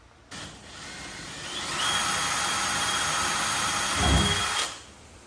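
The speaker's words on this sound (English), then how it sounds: "So we're going to drill a hole and see if this actually threads in there." A power drill whirs steadily for several seconds, rising slightly in pitch as its bit bores a hole while fitting reverse lights on a Toyota Tacoma, then a low thump before it winds down.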